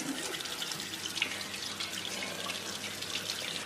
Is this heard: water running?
yes